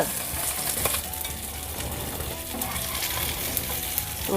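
Oil sizzling and spattering as small fish fry in a pan, a steady close hiss with scattered crackling pops throughout and no voices.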